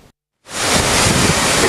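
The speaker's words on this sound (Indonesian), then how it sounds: "angin kencang disertai gelombang tinggi" Strong surf and wind at Sanur Beach, Bali, during high waves: after a short silent gap, a loud, steady broadband roar of crashing water and gusting wind fills the rest.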